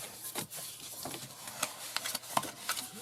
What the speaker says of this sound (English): burnish all your score lines